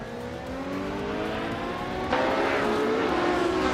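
Race cars in a video game race, engines droning and revving with rising pitch as one car closes in and passes, steady and fairly loud with no talk.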